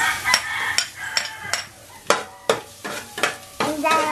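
Garlic hits a hot pan for a beef caldereta and sizzles while it is stirred. A spatula clacks against the pan in quick, uneven strokes, close and clear, over a steady frying hiss.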